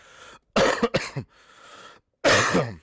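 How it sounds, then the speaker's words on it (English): A person coughs and clears their throat close to the microphone, two harsh bursts near the start and another at the end, with a faint breathy pause between them and no talking. "I really don't want to bring back my cough."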